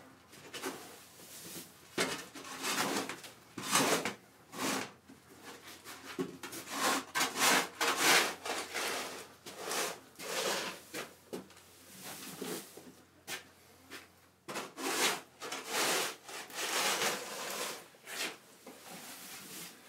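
A scraper rasps across the coroplast floor of a metal shed in a series of repeated strokes, each a harsh close scrape with short pauses between, some strokes quicker and clustered together.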